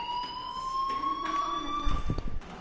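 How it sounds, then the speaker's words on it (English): A fire alarm rings in the video game Life is Strange: a steady, piercing electronic tone holds throughout, with a brief thud and rustle near the end and no speech. "do you hear that fire alarm?"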